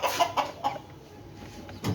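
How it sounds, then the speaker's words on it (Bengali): Backyard chickens kept at a home cluck in a few short, close bursts early on, then go quiet before one more rough cackle at the end, with no talking. "এদিকে আমরা মুরগি পালি,"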